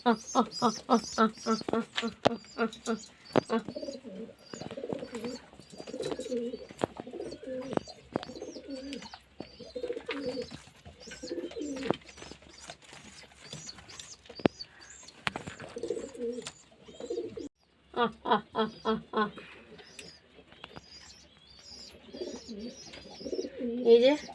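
Kalanka pigeons cooing in a loft, repeated throaty coo phrases in bursts, close and fairly loud, with chirps mixed in and someone speaking at times between the calls.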